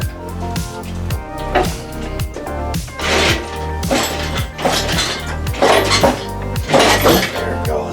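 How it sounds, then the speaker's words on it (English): A cherry picker engine hoist is pumped to lift a 5.3L Yukon motor, giving a steady run of repeated metallic clanks and creaks at a regular pumping rhythm, loud and close in a garage, with no talking. "now we pump the cherry picker up and we hope for the best."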